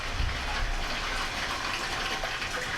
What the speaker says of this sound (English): the water's coming over the grains